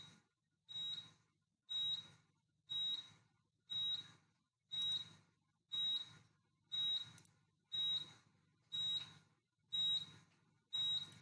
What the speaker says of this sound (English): So I can just silence the buzzer.